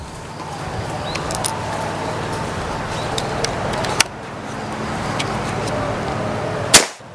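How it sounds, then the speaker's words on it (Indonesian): A Ghost Warrior 360cc PCP air rifle, charged to about 2700 PSI, fires once. A sharp, loud crack near the end cuts through steady outdoor background noise, with a smaller click a few seconds earlier. "kita coba untuk tembakan yang pertama"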